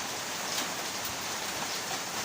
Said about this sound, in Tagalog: nabot na tayo ng malakas na ulan dito sa bukid